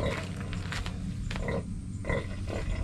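A native mother pig gives birth to piglets, with close, repeated low grunts and rough, breathy squeals in an uneven rhythm.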